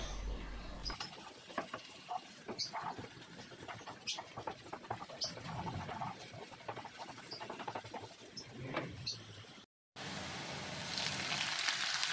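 Steady crackling sizzle of sliced spices stir-frying in hot oil in a wok, with scattered pops and scraping, fairly close, briefly cut by a short silence near the end.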